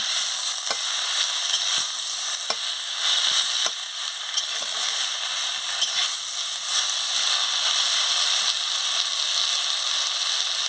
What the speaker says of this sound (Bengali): এই কুমড়ো শাকের পাতাটা কুটে রেখেছিলাম দিয়ে ভালো করে একটু মারিয়ে নিচ্ছি